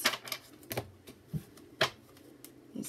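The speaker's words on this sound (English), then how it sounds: "These cards are a pain in the ass to shuffle." Tarot cards are shuffled and flicked close by, a sparse series of soft sharp clicks and riffles spaced irregularly across a quiet background, with no talk.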